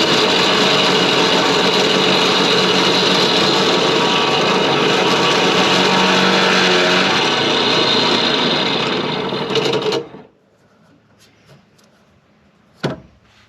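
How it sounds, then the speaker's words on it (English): Power drill boring a hole for an engine mount on a Subaru-swapped VW Bus, a loud steady whine for about ten seconds, then it stops, leaving near silence and one short knock. "Since we got that hole drilled"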